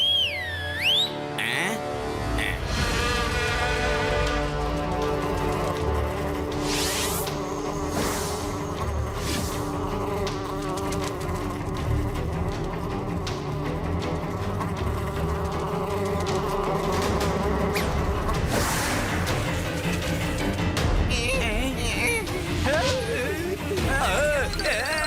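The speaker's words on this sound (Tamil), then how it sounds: "இந்த தேனீலாம் எங்க இருந்து வந்ததுன்னு தெரியலையே" A swarm of bees buzzes in an animated children's cartoon, droning throughout under animated voices talking and shouting, with music and whooshing effects layered on.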